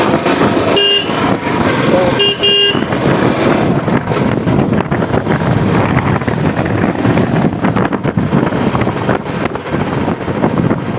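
A Royal Enfield Bullet 350 Standard motorcycle rides along a road, its engine note rising and falling with gear changes over heavy wind buffeting at the microphone; a couple of brief horn toots sound early on, and no one speaks.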